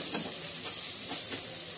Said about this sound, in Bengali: মিনিট দুয়েক সয়াবিনটাকে আমরা ভালোভাবে লাড়িয়ে চাড়িয়ে কষে নেব